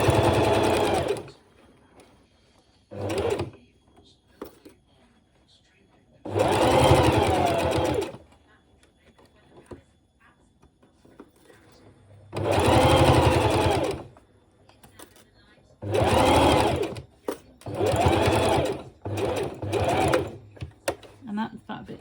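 A sewing machine stitches a memory bear in several separate bursts of rapid mechanical whirring, loud and close, with quiet gaps between them in which a person talks.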